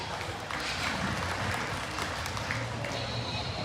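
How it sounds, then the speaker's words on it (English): Audience applause for exhibitors at a junior market barrow livestock show in an arena, steady scattered clapping at a distance with a faint hum and some background murmur. "Let's go and give those exhibitors a nice round of applause."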